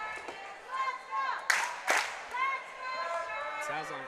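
Gym crowd at a high school volleyball match, Ste. Gen. versus St. Pius, clapping in rhythmic bursts to rally the team, with a few sharp slaps and shoe squeaks, under cheering voices and talk.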